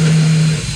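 Exhaust fan in a homemade vertical wood-slab drying kiln built from an old freezer, giving a short, steady motor hum with a strong low tone that shifts slightly as it spins up.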